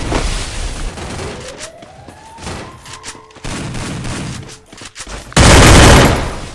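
Bursts of gunfire ring out in a shooter video game, with loud rapid volleys separated by quieter gaps, a rising synthetic tone midway, and a heavy blast near the end.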